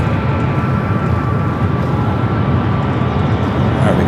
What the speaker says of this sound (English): we got a 777 freighter rolling down at 25 left on the Southern Cargo